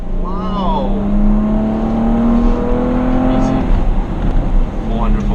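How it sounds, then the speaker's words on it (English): A 2018 Porsche Cayenne S 2.9 V6 twin turbo engine accelerates hard, its pitch climbing steadily for a few seconds before easing off, heard close up from inside the car with road rumble underneath. "The way the engine pulls, I love the way this engine sounds."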